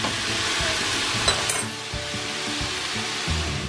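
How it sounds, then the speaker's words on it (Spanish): Diced chicken cubes sizzle steadily in a hot pan, a dense continuous frying hiss with occasional utensil scrapes and stirring knocks, close and alone without talk. "ahora que se está cocinando el pollo"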